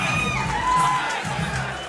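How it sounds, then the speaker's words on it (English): A Muay Thai fight crowd at an international title bout cheers loudly and continuously with whoops and shouts, a dense wash of voices filling the arena. "The crowd are going crazy for red and blue here."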